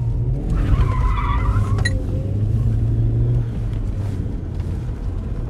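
A car drifts around a half-wet, half-dry racing circuit, tyres squealing in a sustained skid over a steady engine rumble, with a brief sharp screech near the start.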